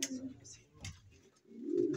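Pigeons at a breeder's loft cooing softly in short low bursts, fairly faint and close, with brief pauses between calls.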